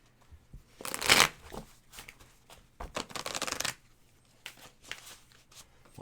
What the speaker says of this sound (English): I'm going to shuffle these a little better.